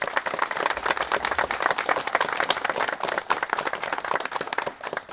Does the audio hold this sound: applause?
yes